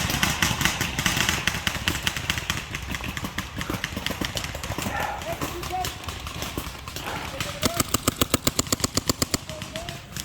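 Tank engine at a paintball D-Day Normandy invasion event: a rough, pulsing engine drone rumbles throughout and ends in a fast, regular mechanical clatter. Players shout over it.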